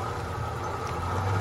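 Big straight-six engine of a lifted classic Ford truck rumbles steadily at close range, a low continuous drone that swells slightly toward the end, with no voices.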